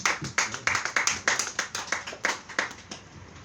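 A small audience at a happy hour event claps for a few seconds, a brisk uneven run of distinct hand claps that thins out and stops.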